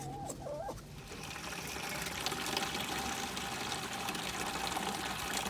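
Water gushes steadily into a bucket, a broad rushing splash that starts after a brief quieter moment and holds at a constant level.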